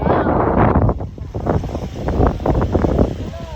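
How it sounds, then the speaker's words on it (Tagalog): Strong wind buffeting the microphone along Lusail Marina in Qatar, loud gusty rumbling that comes and goes, with people talking underneath. "Mahangin po dito."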